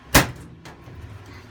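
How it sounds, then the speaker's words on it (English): A single sharp thud from the fuel cell trap door at the rear of a big-block Chevy Blazer, loud and close, followed by a quieter knock and low ambient rumble. "The old fuel cell trap door."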